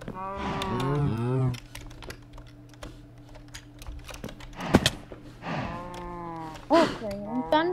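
Minecraft cows moo loudly at the start and again near the end, with several drawn-out bellows over steady game ambience and scattered clicky keyboard-like taps in between.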